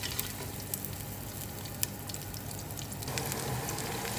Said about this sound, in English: So my onions are sauteing.